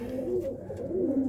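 Tumbler pigeons coo softly in a low, rolling, throaty murmur, a short gentle call close by with no talk over it.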